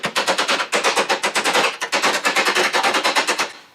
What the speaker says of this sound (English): we'll just use our chisel